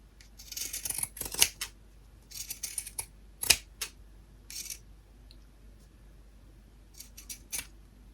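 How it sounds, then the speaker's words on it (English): Pinking shears snipping through fabric in short crisp bursts, several separate cuts with pauses between them, close and clear against a quiet room. "So I'm using my pinking shears"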